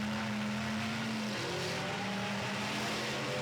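Station wagon race cars speeding around a track in a racing video game, a steady dense engine roar with shifting pitch and a few tire squeals, loud and continuous with no talk.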